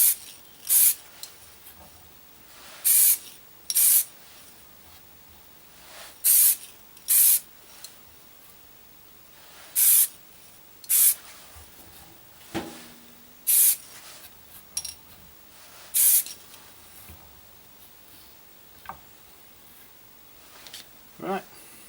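Short bursts of aerosol spray paint laying a first coat on a Corgi 218 Aston Martin DB4 die-cast model, about ten hissing blasts in an irregular rhythm, close and fairly loud, with quiet pauses and faint handling noise between them.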